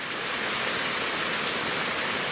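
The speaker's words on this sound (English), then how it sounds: "There's a little water source there" A small trickle of water running down from an old lead mine beside a riverbank wild camp, heard as a steady, close, continuous rushing hiss with no voices.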